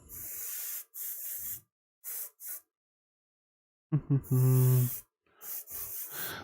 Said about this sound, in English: We're just airbrushing.